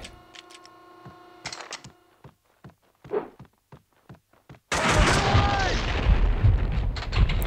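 Grenade explosion in the Max Payne 2 video game: several sharp clicks and thuds, then a sudden loud, sustained roaring blast with debris noise that fills the last few seconds.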